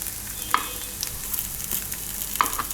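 Chana appe fry in a pan with a steady soft sizzle as a spoon turns them over, giving a couple of light scraping taps, with no talking.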